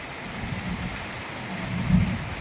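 Heavy monsoon rain pours steadily in Moti Gop, Gujarat, a dense continuous hiss with a low rumble that swells slightly near the end.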